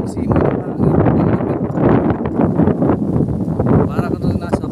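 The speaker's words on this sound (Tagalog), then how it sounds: "Maraming simoy ng hangin." Outdoor wind gusts steadily buffet the microphone at a strawberry garden, a loud rumbling rush over the whole stretch with no pauses, and people talking faintly beneath it.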